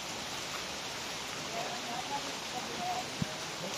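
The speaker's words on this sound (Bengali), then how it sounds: "এখন বৃষ্টি দিতেছে, আপনারা দেখতেছেন।" Rain falling steadily in a village, a dense even hiss that lasts the whole stretch with a single faint knock near the end.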